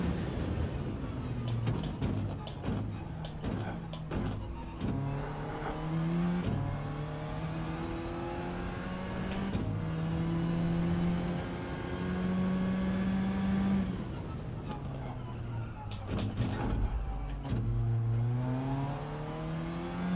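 An Alfa Romeo 4C's engine in a racing video game revs and climbs through the gears in rising, whining sweeps, dropping briefly at each shift, steady and moderately loud with no talking.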